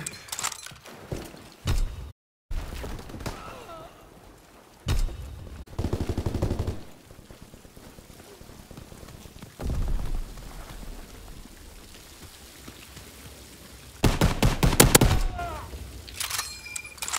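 Gunfire in the video game Call of Duty: WW2 comes in scattered sharp bursts, with a loud rapid automatic volley near the end amid quieter mechanical game sounds.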